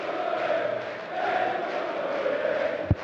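Darts crowd at the European Darts Open 2017 semi-final between Mensur Suljovic and Peter Wright cheering and chanting to lift Suljovic, a sustained roar and hum of many voices filling the hall, moderately loud throughout.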